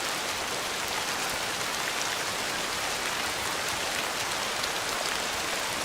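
Steady, dense rainfall in the hunting video game Way of the Hunter 2, built on Unreal Engine 5, an even hiss of drops on surfaces that stays constant throughout with no voices.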